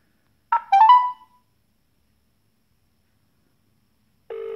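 A phone-app tone sounds on an outgoing call to a Samsung Galaxy Note 4 contact, a short rising melodic chime, then silence, then a steady ringback tone starting at the end.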